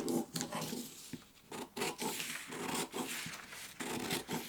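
Scissors cut through a fabric sewing pattern up close, making a steady run of rasping, rustling snips with brief pauses between strokes.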